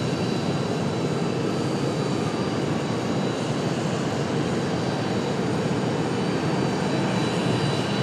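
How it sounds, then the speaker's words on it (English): PSA airliner departing Raleigh-Durham airport, a steady, loud, broadband engine roar filling the whole stretch without letup, no voices over it. "Speaking of departures, we got one coming up. This one right here, PSA."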